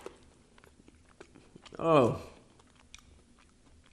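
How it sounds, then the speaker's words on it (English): A single sharp crunchy bite into a crispy lattice-topped duck and hoisin gyoza dumpling, loud and brief in the middle, with a short spoken exclamation just before it. "You can always hear my crunch, I'm sure."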